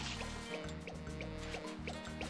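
Mario takes on more water in Super Mario Sunshine, a steady gurgling fill with dripping, trickling liquid, looped and continuous under game music, with no talk.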